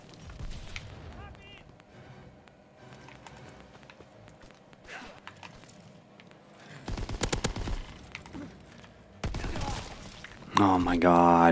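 SMG gunfire in a Call of Duty WW2 team deathmatch. After a stretch of quieter in-game sounds, a couple of short, sharp automatic bursts arrive near the end, followed by a louder burst of game noise.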